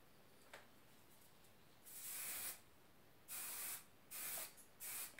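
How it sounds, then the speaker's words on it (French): Short bursts of Macadamia finishing spray misted onto wavy hair, four separate hissing sprays of about half a second to a second each, close and clear against a quiet room. "c'est spray de finition."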